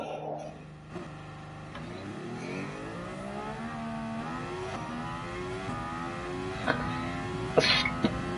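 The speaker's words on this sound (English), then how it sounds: "I still can't get over how bad these cars sound" A car engine in the racing video game Gran Turismo Sport revs up steadily, its pitch climbing and stepping through gears, with a few faint clicks near the end and no talking.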